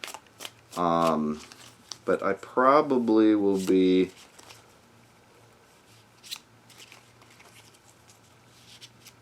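Tarot cards riffled and shuffled in short bursts at close range, with a person speaking over the start, then softer shuffling sounds trailing off.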